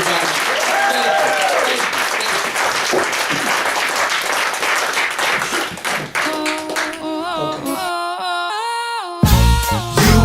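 Studio audience applause for a guest on a talk show, clapping mixed with talk for several seconds before giving way to musical tones and a sharp cut at the end.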